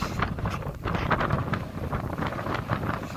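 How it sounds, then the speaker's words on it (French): Strong wind buffets an outdoor microphone near a burning field fire, a constant loud rumbling roar with gusty fluctuations and no clear voices. "il y a du vent, c'est affreux"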